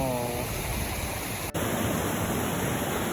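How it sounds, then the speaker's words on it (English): Scottish hill burn draining a loch below a waterfall on a Munro route: a constant, close rush of broadband water noise filling the whole stretch, with a brief dropout midway. "We're literally running against this burn, which is emptying the Loch."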